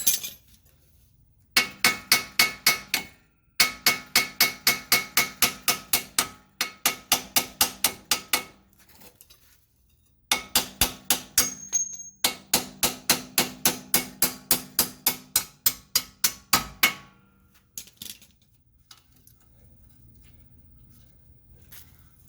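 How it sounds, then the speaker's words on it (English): Rapid bursts of metallic hammering on the front strut bolts of a 2008-2016 Chrysler Town & Country minivan, in several long runs of fast, regular impacts separated by short pauses, close and loud, with no talk. "now we need to get these bolts out"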